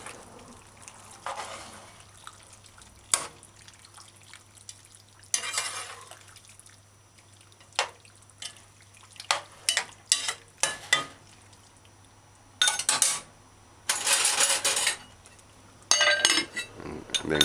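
Manicotti pasta being stirred into a cooking pot, with scattered spoon scrapes and sharp clinks against the pot that come in short bursts, growing busier and louder toward the end.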